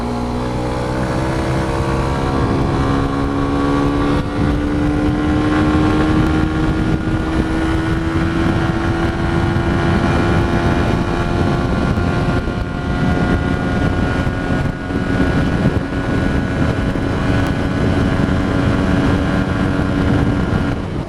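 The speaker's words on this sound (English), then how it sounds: "It's a bit windy today" Loud, constant wind roar and buffeting fill a motorbike ride on a bumpy road, over a steady engine drone that slowly rises in pitch.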